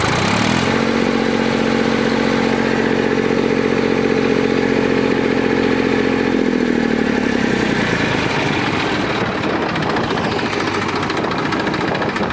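Close, loud diesel drone of a one-owner 2013-14 Massey Ferguson 241 DI tractor in original condition, holding a steady idle, then rising in pitch before settling into a rougher, clattering run.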